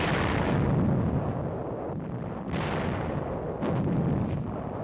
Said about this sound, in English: Guns are set up to blast Jap positions